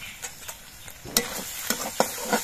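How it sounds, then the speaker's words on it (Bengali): Kashmiri chili powder sizzles in a hot pan of spiced oil for a vegetarian flat bean curry, a steady soft fry broken by repeated scraping stirs that grow louder and sharper in the second half. "তবে কালার হওয়ার জন্য আমি একটুখানি কাশ্মীরি লঙ্কা গুঁড়ো দিচ্ছি।"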